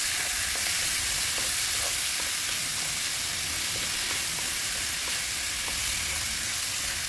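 Chicken gizzards fry with plenty of garlic for adobo, a loud continuous sizzle close up with faint scraping and stirring clicks throughout, no one speaking.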